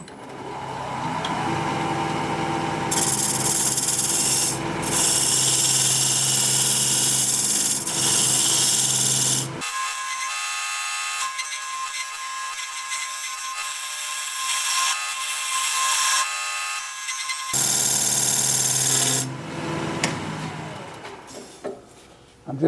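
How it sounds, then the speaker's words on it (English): A wood lathe spins a vase blank while a skew chisel cuts, producing a loud continuous whirring hum with a steady scraping hiss from the tool, broken by a stretch where the low motor rumble drops away. "I'm going to switch to a skew chisel"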